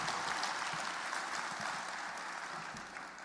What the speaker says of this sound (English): Give us a round of applause, man